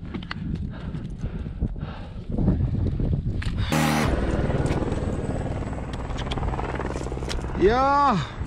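Helicopter flying high on the Matterhorn ridge route, a steady rotor and engine roar building and holding for several seconds over wind and crunching steps, with climbers talking throughout.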